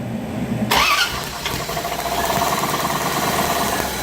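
A 1994 Chevrolet Corvette that is hard to start cranks and catches, its engine turning over loudly near the mic before settling into a steady, rough running rumble.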